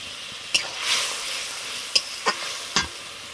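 Turmeric and spice water poured into a hot, sizzling pan, giving a broad hiss that swells and fades, with a few sharp clicks of stirring and no talking.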